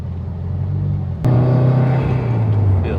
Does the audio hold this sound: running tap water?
no